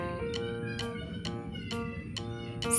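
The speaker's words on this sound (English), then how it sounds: "C for cat." A cat meows repeatedly over bright, tuneful children's alphabet-song music, each meow short and clear against the steady melody.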